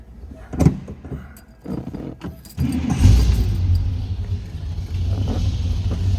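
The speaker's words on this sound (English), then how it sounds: "Grab the keys and let's fire this up a second here." Keys jangle and click in the ignition of a 1963 Chevrolet Nova convertible with a 283 V8 and Edelbrock 4-barrel carburetor, then the engine cranks, catches and settles into a loud, steady, deep rumbling idle close by.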